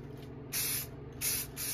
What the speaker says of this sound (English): Now when I spray them, I can get both sides in one shot